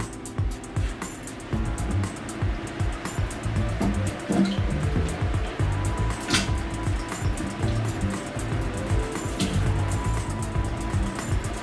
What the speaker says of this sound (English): So now it's time to put the potatoes in the pot.